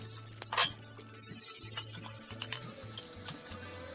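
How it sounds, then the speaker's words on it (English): Masala with fenugreek seeds and green chillies fries in a pan, a soft sizzle under intermittent stirring scrapes and clinks, quiet and close. "Fry it until the masala do not stick with the pan."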